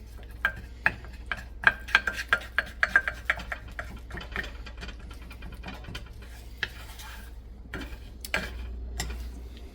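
Heath bar toffee sauce with heavy whipping cream being stirred in a pan, a rapid series of sharp metal-on-pan clicks and taps early on, then sparser scrapes over a low steady hum.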